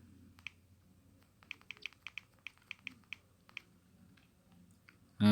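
A name is typed on a computer keyboard as a run of about a dozen quiet, close key clicks in an uneven rhythm, ending with a sudden louder thump.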